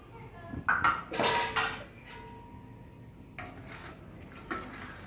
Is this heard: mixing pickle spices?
yes